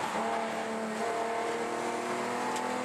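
Race cars lapping the Hampton Downs circuit during a handicap race, including a BMW 2002, give a steady, loud engine drone throughout, sustained and close with no pauses.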